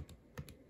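A calculator keypad is tapped in a quick burst of three sharp, close clicks, with no talking.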